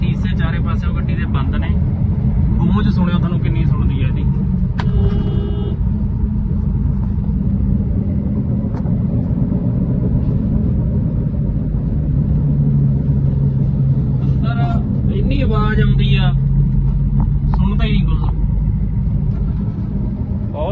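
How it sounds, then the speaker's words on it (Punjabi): A Maruti Suzuki Swift on the move gives off a steady low rumble and droning hum from a worn rear wheel bearing, continuous and loud inside the cabin, with occasional voices over it. "ਬੈਰਿੰਗ ਦੀ ਆਵਾਜ਼ ਆ ਪਿਛਲਾ ਬੈਰਿੰਗ ਆ"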